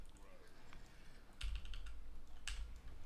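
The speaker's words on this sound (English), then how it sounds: "How come I don't add filters for my keyboard presses?" Computer keyboard keys are pressed in a quiet room, a few soft scattered clicks followed by two sharper, louder keystrokes, heard faintly and alone.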